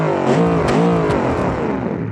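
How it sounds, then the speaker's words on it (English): A Ford Mustang TA2 race car engine revs hard in BeamNG.drive while damaged, missing two tires and with a wrecked radiator, giving a loud, continuous rising-and-falling snarl with no talking. "and rev it up."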